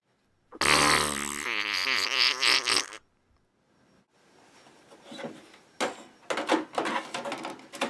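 A cartoonish fart sound effect from a retro-style video game blares loudly for about two seconds, then after a pause comes a series of shorter rustling, sputtering bursts.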